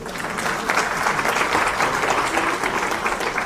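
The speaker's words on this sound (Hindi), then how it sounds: "जोरदार तालियां।" Loud, steady applause fills a hall at a formal government welcoming ceremony for a women and child development minister, dense clapping sustained throughout with no voices.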